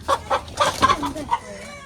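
Chickens, hens or a rooster, clucking in a village yard in Java, a run of loud, close, repeated clucks in quick bursts, with faint talk around them.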